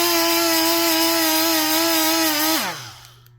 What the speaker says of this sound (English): I've got a Milwaukee right angle die grinder here. I've got a Scotch-Brite pedal, see how fast this takes some of this brass off.